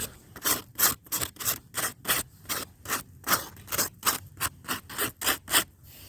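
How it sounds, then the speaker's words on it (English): Rhythmic rasping strokes of a 100-grit sandpaper block rubbing back and forth over a groundhog hide being tanned, about two strokes per second, close and steady. "this is just half a sheet of 100 grit sandpaper here on a little sanding block"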